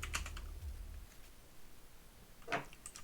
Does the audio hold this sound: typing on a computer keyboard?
yes